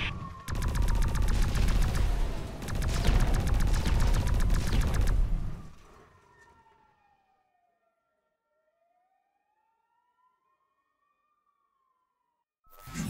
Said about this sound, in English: The aliens are shooting at us!